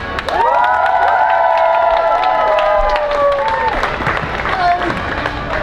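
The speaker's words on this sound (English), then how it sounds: "It's very big cheer." A crowd at a London protest march from the Home Office to Parliament Square cheers loudly, with sustained shouting and whooping voices over scattered clapping, near and dense, fading toward the end.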